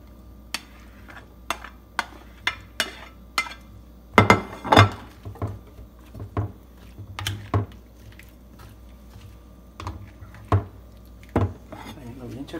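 Spoon clinking and scraping against a bowl while aguachile is stirred and cucumber is added, a series of sharp separate clinks with a busier cluster in the middle, no talking.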